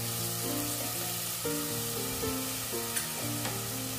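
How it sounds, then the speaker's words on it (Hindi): Onions fry in a pan over a medium flame, giving a steady close sizzle with a few stirring scrapes and clinks throughout, with no voices. "मीडियम फ्लेम पे फ्रेंड्स आप प्याज को भूनें"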